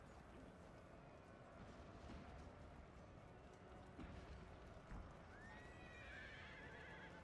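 Horses in a Napoleon Total War cavalry battle whinny and neigh over a continuous rumble of galloping hooves, with a few sharp rising neighs standing out late in the distance and mid-field.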